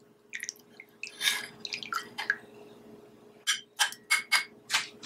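Healthy herbal tea is strained straight into a cup, giving quick trickles and splashes, then a run of sharp clinks and drips near the vessel.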